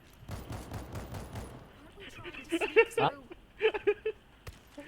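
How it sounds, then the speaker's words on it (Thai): Single shots from a gun in the zombie shooter World War Z Aftermath, fired one at a time in a loose, uneven series of sharp cracks in the second half, after a stretch of talking with voices continuing alongside. "เนี่ยมันยิงทีนัดเนี่ยพี่กดผกยิงทีละนัดใช่ปะ"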